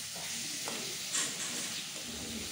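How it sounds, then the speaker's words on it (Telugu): Chopped tomatoes stirred into a hot pan for tomato rice, a steady close sizzle with soft scraping strokes and one brief louder burst partway through. "ఆ టమాటాలని దీంట్లో వేసేసుకోండి. ఇవన్నీ వేసేసి బాగా కలిపేసుకోండి."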